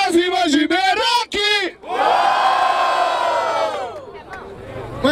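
A crowd at a street rap battle in Barueri, São Paulo, yells and cheers for the rappers, with several sharp chanted shouts followed by one long, loud, sustained roar that fades toward the end.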